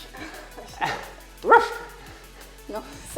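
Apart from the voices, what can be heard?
poodle barking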